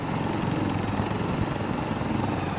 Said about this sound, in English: Another heli